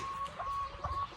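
Young roosters on a small farm with ducks and chickens cluck in a few short, fairly faint calls against outdoor background noise.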